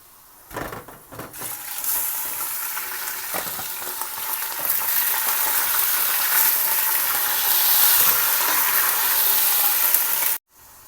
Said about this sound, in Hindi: इसमें गोश्त शामिल कर देंगे। गोश्त को अच्छी तरह भून लेंगे।